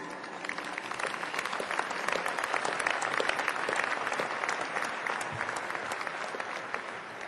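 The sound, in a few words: graduation ceremony audience applause welcoming speaker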